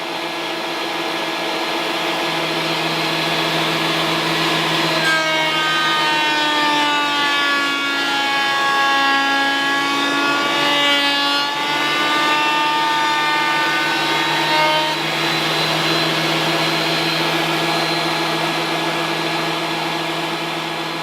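Thickness planer working through a batch of wood boards, a loud, steady machine whine that rises into a harsher cutting drone in the middle as a board feeds through, then settles back, with no talking.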